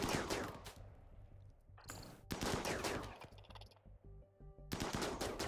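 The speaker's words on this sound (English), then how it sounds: "That means you can all start shooting at the object over there." Rapid bursts of automatic gunfire aimed at an object in RimWorld, Alpha 13, several loud volleys separated by short pauses, with no talking.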